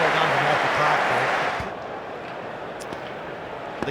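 Cricket crowd at the Gabba in Brisbane during a Test: a loud, broad roar of cheering that swells for about a second and a half, then settles into lower murmuring background noise, with a voice faintly underneath.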